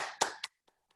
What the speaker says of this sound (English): So I'm just going to clap again.